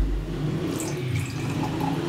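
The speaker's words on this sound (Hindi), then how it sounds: "और साथ में हम इसके अंदर शामिल करेंगे पानी।" Half a glass of water pours into a blender jar holding lemon juice for a homemade skin drink, a steady low splashing rush with a faint background rumble and no talking.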